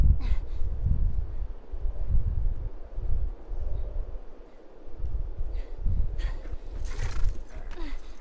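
A horse in The Last of Us snorts and whinnies amid rumbling hoofbeats and wind, fairly close and loud, with a brief rise of sharper sound near the end.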